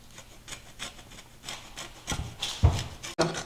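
Lemon zest grated on a grater for tapioca pudding, rhythmic rasping strokes growing louder, ending in a few knocks.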